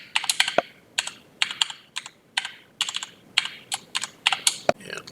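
Password being typed on a computer keyboard, close, crisp key clicks in quick irregular bursts with short pauses and a few heavier keystrokes, no talking.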